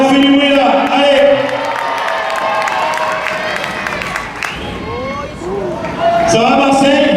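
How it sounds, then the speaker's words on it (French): Arena crowd at a trial and supercross final in the Palais du Sport de Marseille cheering and applauding loudly throughout, with an announcer's voice ringing over the steady roar and rising whistles and shouts. "On peut l'applaudir. Allez, on fait du bruit là."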